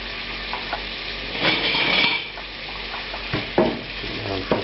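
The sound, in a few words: onions frying in clarified butter in a pan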